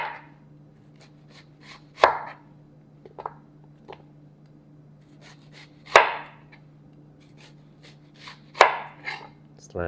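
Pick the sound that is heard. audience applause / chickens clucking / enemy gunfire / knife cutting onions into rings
knife cutting onions into rings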